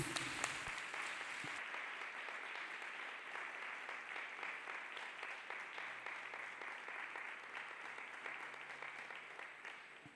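A church congregation claps hands together in steady, sustained applause that carries on for about ten seconds after a brief opening, dense and moderately loud throughout with no voices standing out.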